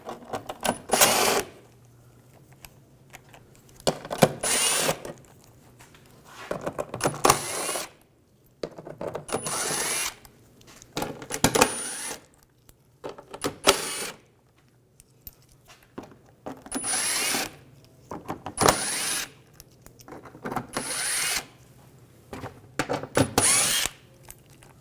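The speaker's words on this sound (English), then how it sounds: "Using an 8mm socket, we're going to take these screws out." A power tool fitted with an 8mm socket drives out panel screws on a 2006-2010 BMW 550i in repeated loud whirring bursts of a second or two, with short quiet gaps between them.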